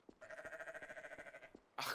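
A sheep in Garry's Mod (Trouble in Terrorist Town mode) lets out one long, wavering, pulsing bleat, close and clear, followed by a short loud noisy burst.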